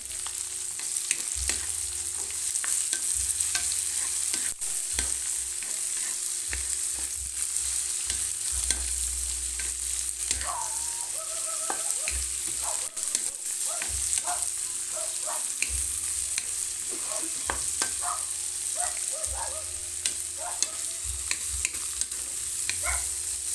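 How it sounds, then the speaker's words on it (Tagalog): Bitter gourd is stir-fried in a pan for a dish with shrimp paste. A steady, close sizzle of hot oil runs throughout, with intermittent stirring and scraping clatter. "Lagay na natin yung gulay nating ampalaya."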